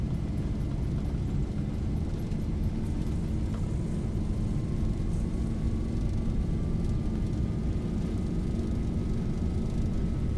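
Airliner engines spooling at takeoff thrust in the Zibo mod 737 flight simulator, a steady, dense roar with a rising whine held throughout, with no talk over it.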